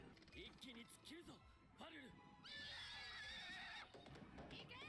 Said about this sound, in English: That horse like, oh. That horse ain't messing with them.